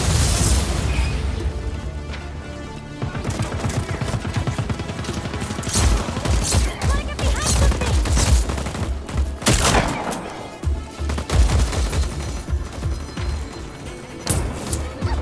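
Shotgun blasts and surrounding gunfire in Just Cause 4, a loud chaotic stretch of booming shots and pops spaced irregularly over a constant rumble, with heavier explosive hits toward the middle and end.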